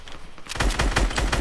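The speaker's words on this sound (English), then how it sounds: "One of them did shoot at us." Rapid gunfire in the video game Fortnite erupts after a quiet half second, a burst of closely spaced shots firing in quick succession, loud and near.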